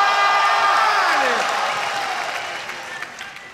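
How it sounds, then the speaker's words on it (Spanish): Audience applause and cheering at a rap battle, a dense crowd clapping that starts loud and gradually fades over a few seconds, with scattered whoops and voices mixed in. "Un aplauso."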